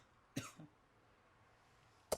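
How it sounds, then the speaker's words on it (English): A light cough comes after a hit of smoke: one short, breathy burst with a smaller follow-up, then quiet, and a brief sharp noise at the very end. "That's a light cough."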